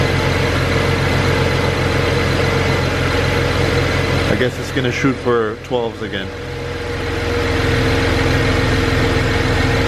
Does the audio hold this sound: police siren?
no